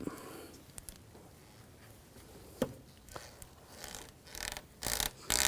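Twisting a rubbery coolant hose back and forth to free it: quiet, close rubbing and squeaking with scattered small clicks and knocks, growing into louder scraping bursts near the end.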